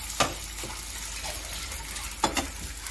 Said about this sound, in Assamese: গুড়াখিনি ভাজি লৈছোঁ